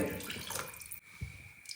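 Water pours steadily into a cooking pot for rice upma in a home kitchen, a close splashing stream that cuts off abruptly and leaves a few faint drips and splashes.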